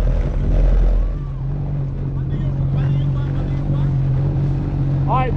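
A Sea-Doo GTX300 personal watercraft idles with a steady, loud low engine drone and water noise throughout, while people talk over it nearby.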